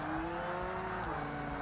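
Race car in the Forza Motorsport video game with its brakes locking up, giving a loud, continuous engine roar and tire squeal that holds steady throughout with no talk.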